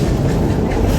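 Dollywood's train, formerly White Pass Yukon engine number 70, rumbles along with a steady low roar of wheels and cars heard from on board.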